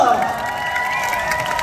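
A concert audience at a retro-costume time-capsule show in Jeonju breaks into applause mixed with cheering and shouts, a dense, steady roar of clapping and voices from a large crowd.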